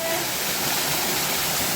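A waterfall at a state park gives off a dense, steady roar of falling water, loud and close, filling the short stretch without a break.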